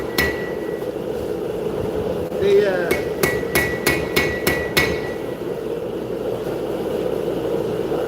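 A blacksmith strikes a hammer on an anvil during a live forging show, about seven sharp ringing blows in a quick run, close and bright over a constant hum of machinery in the background, no talk.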